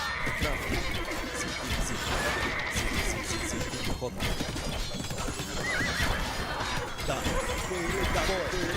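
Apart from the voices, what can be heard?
cavalry horses neighing and hooves in the video game Age of Empires II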